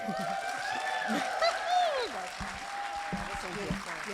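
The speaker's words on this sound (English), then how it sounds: "Let's keep the round of applause going as I welcome Maya Howard." Applause from the audience at a community performers' showcase, a steady wash of clapping under a host's voice talking over it, with a few cheers rising briefly.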